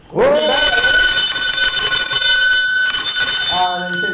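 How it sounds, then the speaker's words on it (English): A loud bell rings steadily at a race with bright sustained tones, while a crowd talks and cheers over it throughout. "Ring the bell."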